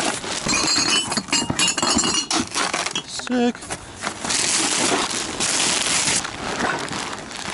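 Glass bottles clink and rattle repeatedly while garbage is picked up along a street in a Wii U video game, loud and busy clattering throughout with a steady background bed.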